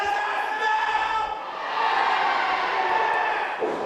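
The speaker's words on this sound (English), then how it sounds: "Crowd counting along. They're loving this." Wrestling crowd at a KCXW independent show cheering loudly and steadily, a dense roar of voices that swells and holds throughout, with rhythmic chanting suggesting the audience counting along.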